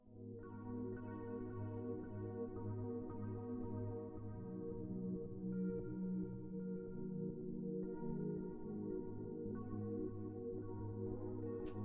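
A soft, sustained synthesizer pad holds layered chords that shift slowly, quiet and smooth with no voices.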